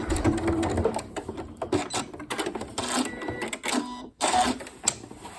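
Sewing machine back-stitching on a ghost-themed cushion, a close, uneven run of rattling mechanical bursts with short pauses and restarts, one clear break near the end.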